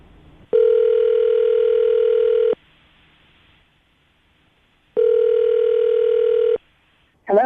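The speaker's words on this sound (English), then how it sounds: "we're going to call her right now, see if we can get her on the phone" A telephone rings twice during a radio call, each long steady electronic tone lasting about two seconds and separated by a pause, loud and clear with no one talking.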